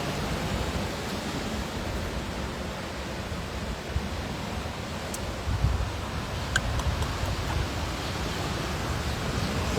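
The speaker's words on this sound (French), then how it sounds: "Il y a peut-être moins de vent ici." Steady outdoor wind rushes over the microphone, a constant soft hiss with faint rustling, with no one talking.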